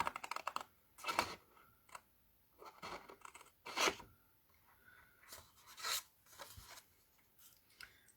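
Paper being cut with scissors for a handmade mini album, a series of close, crisp snips and rustling strokes in irregular bursts, fairly quiet with no talking.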